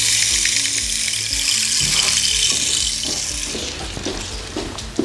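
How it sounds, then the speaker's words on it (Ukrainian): Rain sound effect instrument producing a shimmering hiss of water droplets, a continuous bright rushing patter that slowly fades, with no voices. "шум дождя, который переливается звук как капельки"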